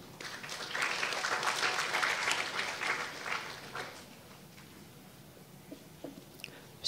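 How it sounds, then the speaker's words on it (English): An audience at an inaugural university lecture claps for the guest of honor: warm, dense applause swells for about three seconds, then fades into quiet room noise with a few scattered sounds. "Please give a warm round of applause."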